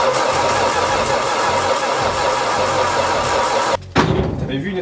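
Old engine being cranked after sitting about ten years, helped by ether starting spray: loud continuous rough cranking and turning over close by, cutting off abruptly near the end before resuming more unevenly, with voices present.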